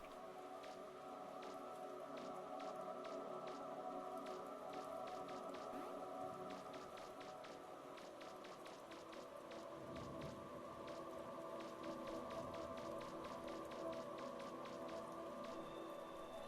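Rain falling in an indie video game, a soft steady patter of drops with faint scattered ticks over a low continuous hum.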